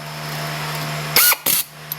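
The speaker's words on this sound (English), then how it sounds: "in my case I'm using a drill, forward and just tighten it on" A cordless power drill in forward briefly drives a bolt tight on the front brakes of a 2003-2007 Honda Accord, two short whirring bursts with a ratcheting stop, close up over a steady background hum.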